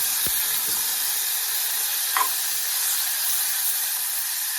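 A steady, even sizzle hisses as butter melts in a hot pan throughout, with a couple of faint taps near the start and a soft clink midway.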